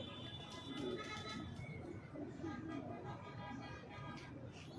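Pigeons coo steadily on a rooftop where flying pigeons are kept, with soft murmuring coos and bird calls running throughout over a busy background hum.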